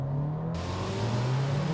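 A Volkswagen GTI-type engine in sport mode pulling hard inside a 2026 VW Tiguan, a steady, rising drone heard from the cabin with no talking.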